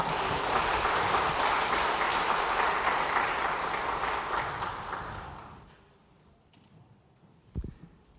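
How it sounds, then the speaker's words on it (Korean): Sustained applause from a large church congregation fills the first five seconds, then tapers off into quiet room tone with a brief thump near the end. "기뻐하며 우리 박수하시겠습니다."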